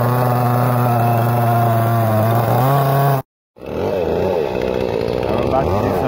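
A chainsaw used on a community help job runs loud and close at a steady whine, breaks off briefly, then restarts rougher with uneven revving under what sounds like talk.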